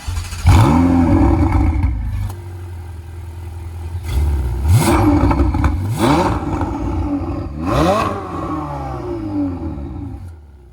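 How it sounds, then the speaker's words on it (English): A red Ferrari 488 Spyder engine revving loudly, with repeated rising and falling revs and a steady mechanical drone between them, close and dominant, with no talking. "driving a red Ferrari and it being that loud"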